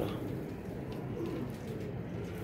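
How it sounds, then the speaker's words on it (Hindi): Pigeons kept for sale give low, continuous cooing close by, a dense rumbling murmur of several birds running through the whole stretch with no talk. "ये है जी कबूतर माशाल्लाह।"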